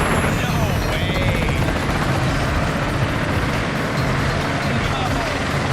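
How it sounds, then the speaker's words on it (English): Game show helicopter, a steady loud rotor and engine roar filling the scene from start to finish, with no talk over it. "You guys will each be attached to that helicopter."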